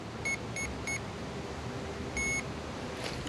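A Redcat Gen 8 V2 RC crawler's receiver gives short electronic beeps as it binds to the radio: three quick bleeps, a pause, then one longer beep, clear over quiet room noise.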